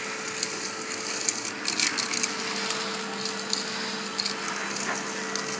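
A vacuum cleaner running through a homemade water filter gives a steady close whine and rushing hiss, with scattered rattles and crackles of debris being drawn in.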